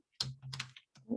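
A short burst of keyboard typing as a Facebook post is written, a handful of quick close clicks and taps within about a second, quiet and alone.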